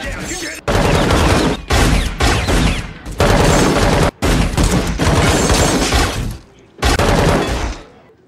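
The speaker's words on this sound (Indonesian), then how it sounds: "Di sisi lain, baku tembak kini terjadi di kasino." Sustained automatic gunfire roars through a casino shootout in an action film, loud dense bursts broken by brief silences, with muffled shouts and impacts mixed in.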